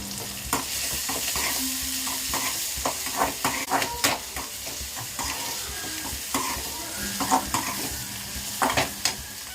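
Crushed garlic and curry leaves fry in a hot pan with a steady, loud sizzle, broken by repeated scraping and clinking stirs throughout.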